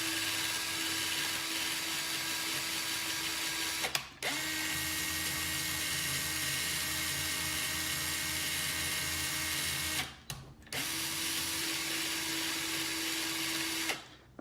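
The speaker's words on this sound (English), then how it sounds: "You spin the drill and hold one side and then release it so it gets straight" A hand-held power drill whirs steadily, spinning to twist and stretch wire for making interlocking coils; the near, continuous whine stops briefly three times before resuming.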